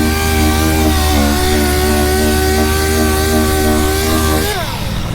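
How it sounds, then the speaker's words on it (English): A loud, steady whine of a power sander sanding resin on a Dodge Viper ACR body panel close by, droning evenly before its pitch drops as the tool winds down near the end. "he's just sanding this part off right now."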